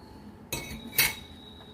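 A spoon stirs diet khichu in a metal pot, giving two short clinking scrapes close by and moderately loud, then quiet.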